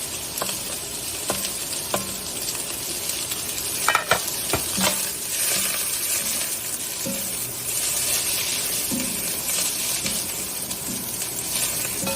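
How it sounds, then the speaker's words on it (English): Onions sauteing in a pan for an Indian-style chicken curry, a steady sizzle with scattered spoon scrapes and taps from stirring, close by with no talk. "we're going to take our onions and we're going to saute them up some"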